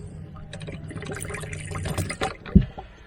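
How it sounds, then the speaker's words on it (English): Water running from a tap in a motorhome, a close splashing and trickling flow with rattles and knocks of handling, ending in a sharp thump. "And then turn the tap on and you get water."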